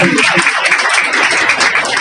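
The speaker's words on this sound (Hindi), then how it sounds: "अहाँ सब जोरदार ताली बजाइए" An audience at a Teachers' Day event claps to honour a teacher, giving a short, dense burst of applause with some voices mixed in.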